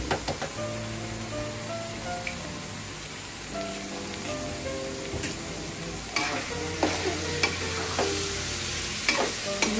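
Ridge gourd and egg stir-fried in a pan crackle with a constant soft sizzle, broken by scattered spatula scrapes and clinks against the metal, quiet and close, with no talk.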